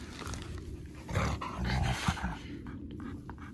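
A husky dog pants and growls at close range, a rough low rumble swelling in the middle over steady breathy panting.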